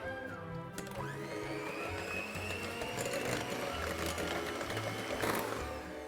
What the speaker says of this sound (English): we're going to whisk this up until it becomes really light and fluffy